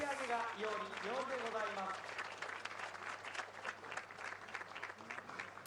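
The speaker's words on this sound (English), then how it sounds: "Oh, there it is. Applause." Crowd applause at a bullfight in a Yamakoshi arena, sustained clapping from a large audience, with a commentator's voice talking over the start.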